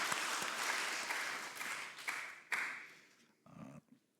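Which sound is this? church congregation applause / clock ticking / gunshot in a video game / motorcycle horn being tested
church congregation applause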